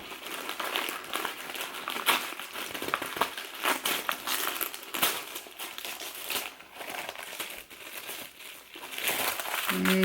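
Tissue paper crinkling and rustling continuously as a beauty box is unpacked, close, dense and steady for the whole stretch without pause.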